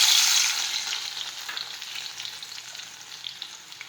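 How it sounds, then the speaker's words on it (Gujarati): Crushed garlic hits hot oil for an okra gravy curry, a loud burst of sizzling that quickly settles into a steady, softer crackle, heard close with no talking. "આપણું તેલ છે તે ગરમ થઈ ગયું છે. હવે આપણે તેમાં ખાંડેલું લસણ નાખીશું."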